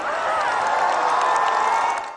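A large crowd of onlookers outside Rome's Gemelli Hospital cheers for Pope Francis on a balcony, a loud continuous roar of voices and whoops that rises slightly and holds before fading at the end.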